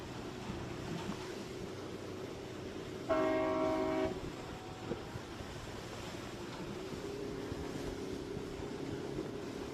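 A steady boat horn hoot from a sailing yacht during a race sounds for about a second over continuous wind and water noise, then fades back into the ambient rush.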